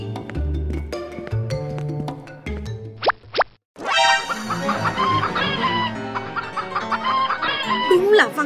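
Cartoon farmyard chickens cluck and cackle in an animated Vietnamese folk tale, a busy run of fowl calls with a few springy cartoon effects, loud and close, alone without talk.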